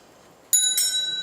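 A bright electronic bell tone rings out suddenly, two quick chimes sustaining and slowly fading after a moment of quiet.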